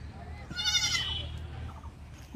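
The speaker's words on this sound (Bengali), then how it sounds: "ছোট্ট ছোট্ট কিউট ছাগল।" Small goat kids in a village give a brief, high bleat early on, then quieter sounds follow over a low outdoor rumble.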